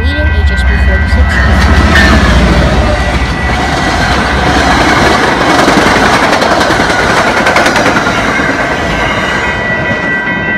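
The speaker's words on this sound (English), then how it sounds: "heads through the Brighton Street crossing with locomotive 2020 leading HSB 46" A train led by a locomotive rolls past close by through a level crossing, loud and continuous, with rattling wheels clacking over the rails and brief high squeals.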